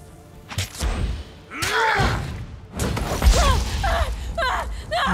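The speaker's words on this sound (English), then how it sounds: "I love these explosions." Spell explosions in the game Tyranny burst in quick succession, booming thuds with crackling, whooshing magical tails, loud and busy over a brief gasp.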